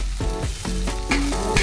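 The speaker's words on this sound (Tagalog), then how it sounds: "Hulogin lang, gisa-gisa muna natin to." Dried shrimp sizzles and crackles as it is sautéed with mixed vegetables in a hot pan, with loud bursts of frying and a few stirring scrapes close by.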